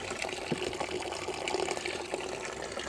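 Engine coolant from a camper van drains steadily into a clean bucket, a continuous close splashing pour with no break.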